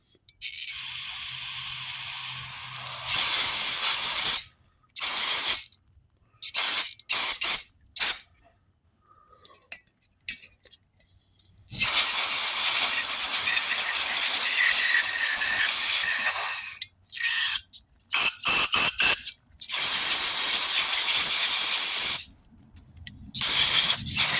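Hissing spray cleans the outside of a carburetor from a pressure washer. Loud, close bursts of spray start and stop irregularly, some long and steady, others short and choppy, with quiet gaps between them.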